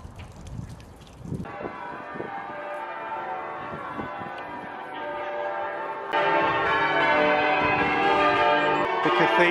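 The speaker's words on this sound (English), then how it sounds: "The cathedral bells were rehung in this tower in 1975." Cathedral bells ring from a tower in Chester, a dense, continuous peal of overlapping strikes that swells louder partway through, heard from nearby with no talk.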